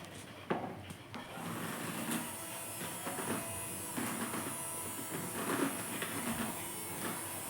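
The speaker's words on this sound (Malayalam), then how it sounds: "ഇനി നമുക്ക് ഒരു മൂന്ന് ടേബിൾ സ്പൂൺ സൺഫ്ലവർ ഓയിൽ ഒഴിച്ചിട്ട് ഒന്നാമത്തെ സ്പീഡിലിട്ടിട്ട് ഒന്ന് ബീറ്റ് ചെയ്യാം" An electric beater on its first speed mixes three tablespoons of sunflower oil into chocolate cake batter, a steady whirring hum with rattling against the bowl, fairly close and continuous without speech.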